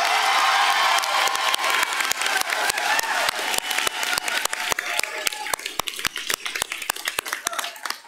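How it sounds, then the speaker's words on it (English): An audience at a spring commencement ceremony applauds an award recipient with dense, loud clapping that gradually thins out into separate, spaced claps. "I know he feels that round of applause from where he's at now"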